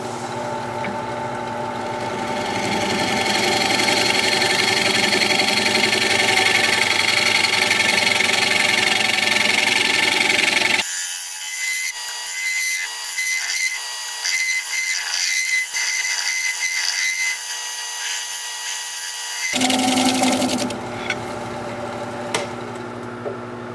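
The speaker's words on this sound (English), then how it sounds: "I'm going to put a fresh burr on my scraper and we'll scrape." A scraper works weeping birch spinning on a wood lathe, giving a steady, close whirring scrape with a hum beneath; midway the low rumble drops out, leaving only a thin hiss, before the fuller sound returns.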